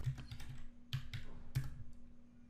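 Keyboard keys typed in a short run of clicks while entering a Laravel php artisan command, close and fairly soft with a steady low hum underneath.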